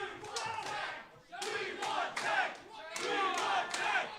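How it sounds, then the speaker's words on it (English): A wrestling crowd at an indoor independent show chanting in three rising, rhythmic bursts of massed voices, loud and reverberant, with brief dips between the chants. "The Paulsboro crowd asking for the tank."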